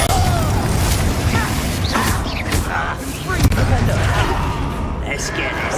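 Explosion spell Confringo cast during a fight in the video game Hogwarts Legacy, booming impacts and crashes amid continuous combat noise, with voices talking throughout.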